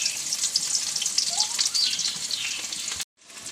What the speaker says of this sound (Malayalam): അതിൽ ഉള്ളി ഇടണം